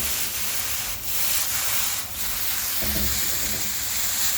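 Finely sliced potatoes sautéing with Sichuan pepper, a close steady sizzle broken by a few brief spatula stirs, with no voices.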